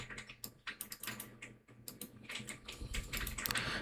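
Rapid, uneven clatter of fingers typing on a computer keyboard, close and fairly quiet, with bursts of key presses growing slightly denser toward the end and no voices.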